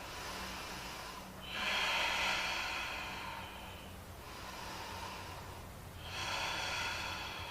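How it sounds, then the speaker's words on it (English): Forceful breaths during a held yoga pose in a detox sequence, a slow cycle of about three loud, close, hissing nasal inhales and exhales with pauses between, alone without talk. "Nice, activated, strong breath."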